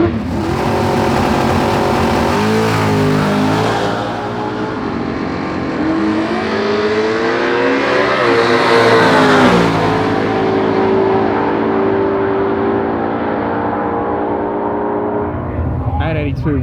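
Nitrous-powered Barra-engined coupe drag racing, its engine revving loud and close with rising pitch sweeps as it launches and accelerates, a commentator's voice running beneath the roar throughout.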